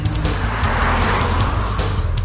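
Porsche Cayenne SUV driving on a road, a steady engine hum with tire and wind noise throughout, close and continuous at moderate volume.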